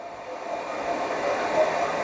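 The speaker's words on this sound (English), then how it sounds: "I'm going to kick in the top-heavy heating function of the hairdryer" A hair dryer on its heat setting, powered by a portable power station, blows with a steady, even whir and airy hiss, holding constant throughout with a slight rise in the middle.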